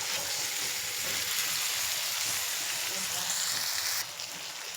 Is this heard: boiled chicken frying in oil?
yes